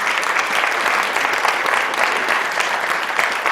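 Sustained, dense applause from an audience at a community awards ceremony, honoring the award recipients; steady clapping fills the whole stretch with no break.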